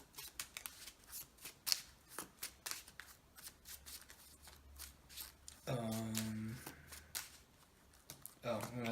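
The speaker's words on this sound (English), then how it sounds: "when your deck runs out of cards, you just shuffle your discard pile" Quick crisp riffling bursts of a card deck being shuffled, a few separate flurries, then a brief tonal sound partway through; close and fairly quiet.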